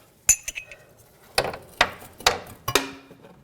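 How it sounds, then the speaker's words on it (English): Metal punch or chisel struck against a brake hose fitting on a 2006-2009 Audi S4, five sharp ringing metallic taps spaced about half a second apart, close and isolated in a quiet garage. "I'm just going to give it a tap with a punch or a chisel."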